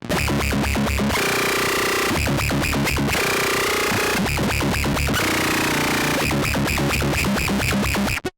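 Heavily distorted synth-like guitar tone through a PVH 6160 block amp model, chugging in rhythmic bursts, loud and dense, with short sustained chords between the choppy palm-muted riffs.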